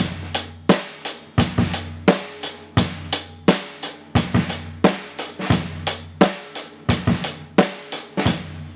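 Hi-hat struck with the butt end of a drumstick in a steady groove alongside kick and snare, sharp bright accents repeating rhythmically, close and loud with no talking.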